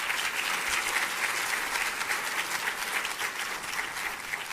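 In a Unity church, the congregation breaks into sustained applause, loud, dense clapping from many hands that keeps a steady level across several seconds with no speech over it.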